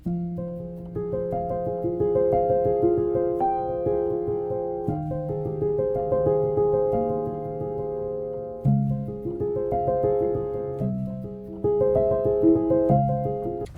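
A piano with soft material placed between the strings and hammers plays flowing arpeggiated chords, muted, mellow and dampened, with no talking.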